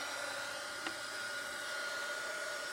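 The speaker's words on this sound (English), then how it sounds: "So for that you need the heat tool, which you've seen before." Heat tool used to shrink plastic, blowing with a steady, loud, broadband hiss and whine throughout, with no talking.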